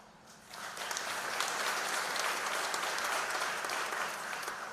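Audience applause at a ribbon-cutting ceremony for the Ashland Public Safety Building swells up after a quiet start into sustained clapping from many hands, holding steady before easing slightly.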